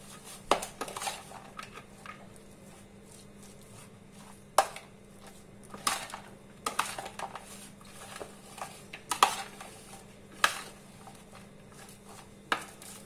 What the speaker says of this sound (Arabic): نخلط هاد المكونات تتنسجم ليا مزيان